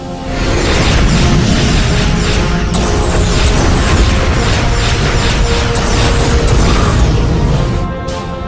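Starship weapons fire and explosions fill a sci-fi action movie battle around a starbase, a dense loud wall of booms, bursts and mechanical rumble that runs without pause, with no dialogue heard.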